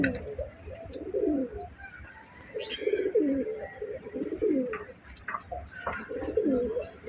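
Male pigeons of the bagha variety coo in repeated rolling phrases, close and fairly clear, with short pauses between bursts and a few faint chirps and ticks around them.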